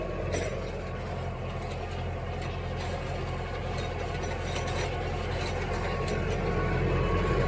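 A tractor engine runs steadily while tedding second-cut hay, a continuous loud low rumble with mechanical clatter that holds constant throughout, close to the listener.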